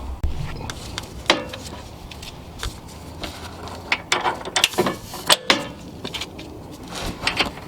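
A long 21 mm bolt on a Mercedes C/E/S/CLS-class thrust arm is tightened with a ratchet, giving bursts of close, loud clicking pawl sounds and metallic clanks at irregular intervals.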